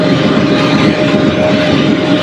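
A tractor engine runs steadily in a Missouri food plot field being worked up, a loud continuous droning rumble with no breaks and no talk over it.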